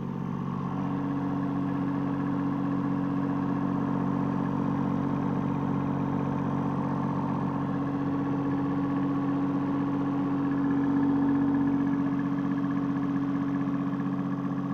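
A 1.5-ton Komatsu mini excavator engine revved to high RPM, a steady, loud droning drone heard up close with no talk, holding an even pitch throughout.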